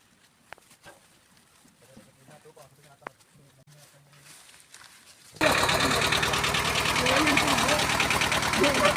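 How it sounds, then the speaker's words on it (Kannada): A Mahindra tractor engine starts up after a quiet stretch with a few knocks and faint voices, then runs loud and close with a steady diesel clatter and rumble. "ಈಗ ಹಗ್ಗದ್ದು ಕೆಲಸ ಮುಗಿದು ಟ್ರ್ಯಾಕ್ಟರ್ ಹಚ್ಚಿದ್ವಿ."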